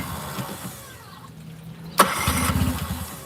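A 9.9hp Mercury outboard on a Grizzly Tracker boat cranks and fails to catch: a sharp click, then a loud, rough, sputtering burst that dies away without settling into a run.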